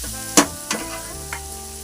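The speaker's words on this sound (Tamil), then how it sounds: "தக்காளி வதங்கட்டும்." Tomatoes sauté in a pan for pepper prawn fry, a soft continuous sizzle punctuated by three sharp stirring scrapes, close and alone with no voices.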